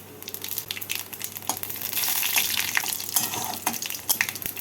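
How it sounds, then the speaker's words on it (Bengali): Three dried red chillies, two bay leaves and a teaspoon of panch phoron fry in hot oil, giving a dense crackling sizzle that swells louder midway with sharp spitting pops over a low steady hum. "তেলটা গরম হয়ে গেছে ফোড়নে দিচ্ছি তিনটে শুকনো লঙ্কা দুটো তেজপাতা দেব এক টিস্পুন পাঁচ ফোড়ন"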